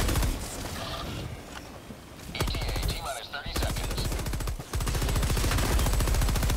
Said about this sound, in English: Guy shooting at you over here